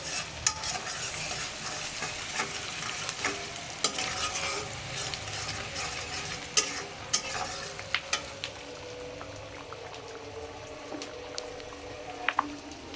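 Steady, loud sizzling of onions frying in a pan, with occasional stirring scrapes and clicks throughout, close up and without talk.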